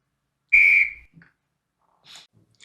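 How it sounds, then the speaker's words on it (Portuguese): A timer gives one loud, close, steady high beep lasting about half a second, then a couple of faint ticks and a short softer chirp follow in a quiet room. "Daqui a pouco ele vai apitar."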